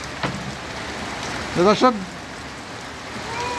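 Storm rain falls steadily on pigeons outside, a constant hiss of drops on surfaces, while someone speaks briefly over it.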